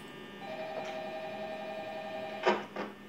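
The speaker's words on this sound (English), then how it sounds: "Telephone call." Electronic telephone ring from the horror video game Five Nights at Freddy's, night 4, a steady tonal buzz over a quiet room hum, with two sharp brighter bursts near the end.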